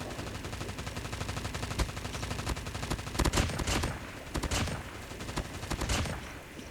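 Rapid automatic gunfire from a Holger weapon in a ranked first-person shooter match, repeated bursts of sharp shots over continuous game noise, loudest in the middle stretch.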